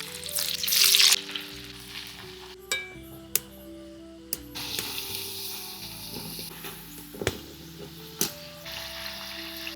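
Spiral potatoes dropped one by one into hot white oil in a wok, bursting into a loud hiss that settles into steady sizzling frying, punctuated by occasional clinks and taps of a utensil.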